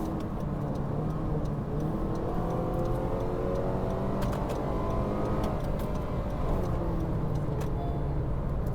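Honda CR-V (2017-2022) with a continuously variable transmission accelerating, a steady loud engine drone heard from inside the car with smoothly rising pitch and light ticking, no talking.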